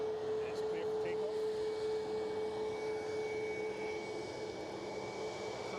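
An airplane taking off at Edinburgh Airport gives a steady broadband jet roar that holds at even loudness throughout, with a sustained whine running over it and brief faint chirps near the start.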